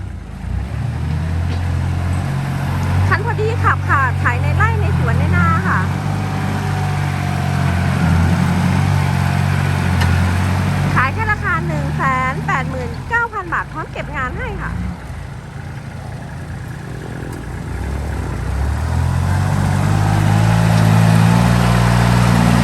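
A Kubota L3408 three-cylinder tractor engine idles with a steady low drone throughout, while someone talks over it almost continuously.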